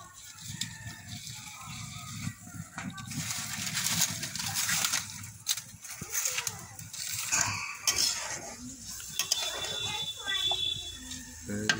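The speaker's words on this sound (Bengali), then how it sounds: "এটা কষা হচ্ছে একটু।" Spiced beef brain being stir-fried in a pan for a village-style bhuna, with sizzling, spatula scraping and clinking against the metal pan in irregular bursts, while people talk alongside.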